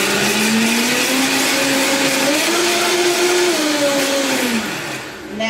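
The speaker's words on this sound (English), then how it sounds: "We turn it on, and there's the honey blending." A countertop blender whirs steadily while mixing milk kefir with honey, a loud continuous motor whine that shifts pitch slightly midway and dips near the end, with no talking.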